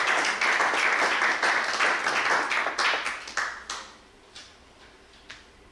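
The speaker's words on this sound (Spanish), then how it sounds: "Dele una ofrenda de palmas al Señor" A church congregation claps together in dense, lively applause that fills the room, then thins out into a few scattered claps before fading away.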